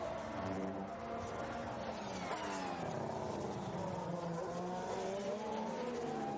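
Formula 1 cars racing at the 2017 Bahrain Grand Prix, a Sauber and a Toro Rosso battling closely, with loud continuous high-revving engine whine and shifting pitch sweeps as the cars pass, under a steady roar of circuit noise.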